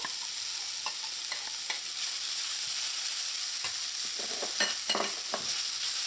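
Smoked herring sizzles and fries with browned onions in a pan while a utensil stirs and scrapes it in steady, close strokes over a constant hiss.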